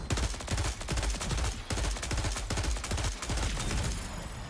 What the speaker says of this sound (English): This is a pulse rifle from freaking Destiny.